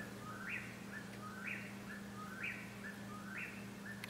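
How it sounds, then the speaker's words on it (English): Faint, distant whippoorwill calls repeating at an even pace, four or five phrases in a row, heard over a low steady hum on a rural homestead. "It's a whippoorwill."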